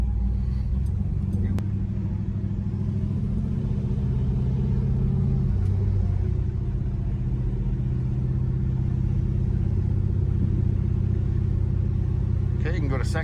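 Deep, steady low rumble of a big-block car with a four-speed manual as it pulls away slowly in first gear, the engine loud and close throughout.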